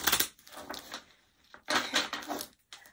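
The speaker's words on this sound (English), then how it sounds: "I'm just going to shuffle your cards." A deck of Uno cards being shuffled by hand: quick, close, crisp riffling bursts separated by brief pauses, quiet overall and without speech.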